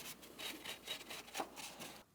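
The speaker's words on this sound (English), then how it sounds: "I'm just using a clean rag." A clean rag wiped across the air box mounting surface of a 2003-2008 Toyota Matrix 1.8L four-cylinder, giving faint, close, rhythmic rubbing strokes, several in quick succession, before a sudden stop.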